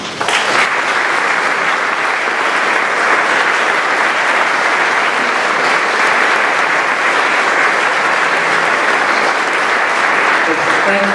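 An auditorium audience applauds steadily to welcome author Nathaniel Philbrick to the stage, a loud, dense wash of clapping that holds evenly for about eleven seconds.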